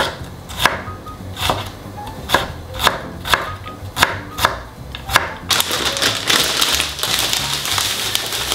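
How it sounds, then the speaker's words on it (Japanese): A kitchen knife chops onion and carrot finely on a cutting board, first in spaced crisp knocks, then in a fast continuous run of close, busy taps. "ボロネーゼは玉ねぎと人参をみじん切りにしていきます。"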